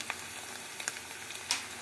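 Ginger and garlic paste sizzling in hot oil with fried onions for a soybean curry, a close, steady hiss broken by small crackles and stirring ticks.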